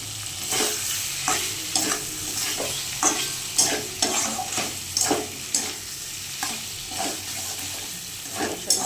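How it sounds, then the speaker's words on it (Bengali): Small potatoes being stir-fried in a pan with ginger, tomato and cumin pastes and chili powder: a steady sizzle under repeated scraping and stirring strokes of a spatula, close and fairly loud, with no talking. "আর দুটো ছোটো ছোটো আলু দিয়ে দিয়েছি, একটু কষিয়ে নেব।"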